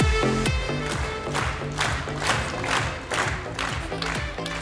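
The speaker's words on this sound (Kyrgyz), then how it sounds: "катуура кол чаап бериңиздер, мыкты" An audience at a stage event applauds and cheers, with dense clapping and shouting voices over a loud musical backing.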